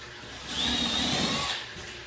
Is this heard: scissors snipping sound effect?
no